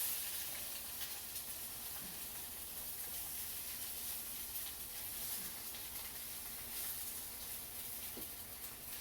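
An egg fries in a hot pan with a steady, even sizzling hiss that runs unbroken throughout, alone and at moderate volume.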